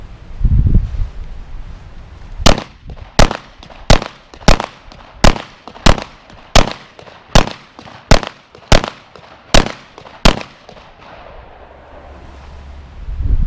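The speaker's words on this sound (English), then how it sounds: "I'll shoot 12 shots, 1, 2, 3, 3, 2, 1, 1, 2, 3, 3, 2, 1, out of our 9mm" Twelve 9mm handgun shots fired at targets, sharp loud cracks in a steady evenly spaced series with brief pauses between, outdoors and without talk.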